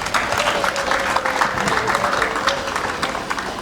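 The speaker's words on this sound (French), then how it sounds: "ils méritent nos applaudissements" A crowd at a ceremony claps in sustained, moderately loud applause, a dense patter of many hands with faint crowd murmur underneath.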